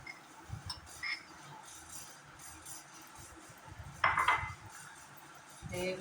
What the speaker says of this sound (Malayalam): നമുക്ക് ഈ മുളക് പൊടി ഇപ്പോൾ ഇതിലേക്ക് എണ്ണയിലേക്ക് മിക്സ് ചെയ്യാം